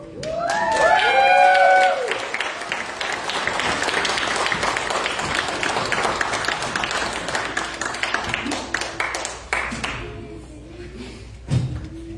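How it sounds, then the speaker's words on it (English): An audience at a scout troop court of honor bursts into applause, a steady crowd clapping that swells early then tapers off over several seconds, with a few voices and thumps near the end. "We get another big round of applause"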